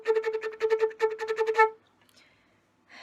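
A flute plays a quick string of short tongued notes on one pitch with tense, locked-up articulation, in two bursts that stop abruptly, followed by near silence.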